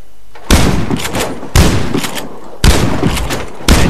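A one-shot-kill shotgun fitted with a flash suppressor fires in the video game Warface: four loud, booming blasts spaced about a second apart, each trailing off briefly, with no speech.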